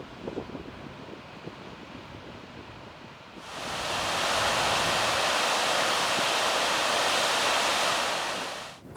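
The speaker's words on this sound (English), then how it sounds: "we traversed a boisterous stream cascading down the hill from a glacier" A boisterous glacier-fed stream cascades down a hillside in Greenland, first quieter rushing water with wind, then a sudden loud, close, steady roar of tumbling water that fills the rest.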